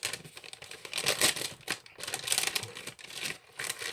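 Sticky plastic parcel wrap peels and crinkles off a package holding an HP GK400F gaming keyboard, in close, uneven ripping and crackling bursts with short pauses between pulls.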